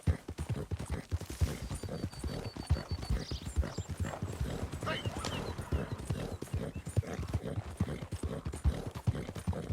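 Hooves of an American paint horse clip-clopping in Red Dead Redemption 2, a steady rhythmic walking beat close by, with a brief whinny early on and game ambience around it.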